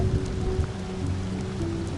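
Steady rain falls without a break, a dense even hiss with low rumbling patter, close and fairly loud, growing heavier during a power outage.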